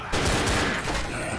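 Dense, rapid gunfire from the zombie shooter Left 4 Dead, on the Dead Air campaign: sustained overlapping shots and bursts, loud and continuous throughout, with no speech.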